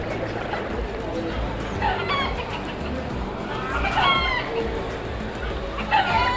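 Chickens cluck and a rooster calls intermittently from a short distance near a Key West beach, mixed into a busy outdoor background with people talking nearby.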